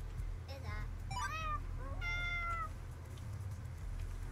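Cats from the video game Diaries of a Spaceport Janitor meow three times in quick succession, faint over a steady low background hum.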